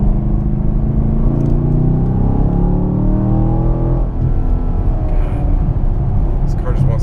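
Chevrolet Camaro SS fitted with a Roto-Fab intake, its engine and exhaust droning steadily with a deep rumble and rising tone under cabin road noise, while someone talks over it.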